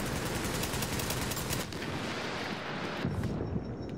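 Dense, continuous gunfire in The Division 2 as an enemy's backpack is shot, loud rapid bursts overlapping with a heavy rumbling background, a couple of brief dips in the barrage along the way.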